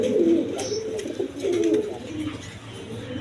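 Breeding pairs of pigeons coo in low, throaty murmurs, several overlapping calls close by over a steady background hum.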